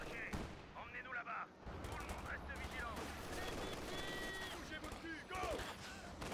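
Rapid gunfire and shell shots from the World War II strategy game Company of Heroes 2, dense bursts running throughout over a busy battle background, with voices speaking over it.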